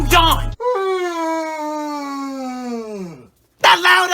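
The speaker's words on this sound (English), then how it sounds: "That loud ass yawn." A loud, drawn-out yawn rises into a long wavering moan that slowly falls away over about three seconds, clear and close, with brief voice bursts just before and after it.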